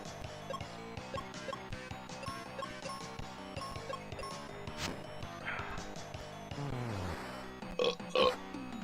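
A couple of hearty burps stand out near the end, over a dense, continuous music bed that plays throughout.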